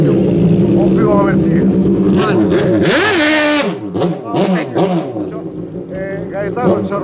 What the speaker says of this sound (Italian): ha fatto sentire il suo motore con l'assoluto di gara